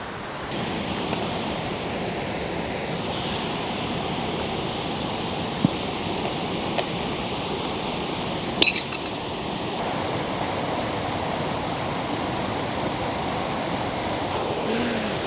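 A waterfall in the Swiss Alps roars as a steady, dense wash of white noise from a moderate distance at night, with a few faint clinks of camera gear, and no one speaks.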